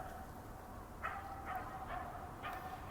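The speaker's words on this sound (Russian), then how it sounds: "Собачка гавкает." A small dog barks somewhere off in a windy outdoor courtyard, several faint, short yaps spaced a second or so apart over a steady rumble of wind.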